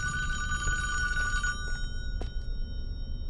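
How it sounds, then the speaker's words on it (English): Telephone ringing inside a cabin in the Friday the 13th virtual cabin video game, a steady electronic ring trilling continuously over a low background rumble, with a few brief clicks toward the end. "let's answer the phone and see what happens"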